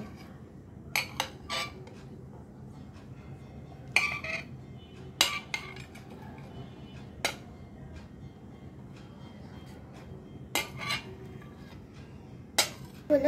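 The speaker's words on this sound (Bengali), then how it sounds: "সব স্ট্রবেরি ভালোভাবে বয়ামে ভরে নেব।" Strawberries are spooned into a glass jar, giving quiet, scattered clinks and taps of utensil against glass at irregular intervals over a faint, hushed background.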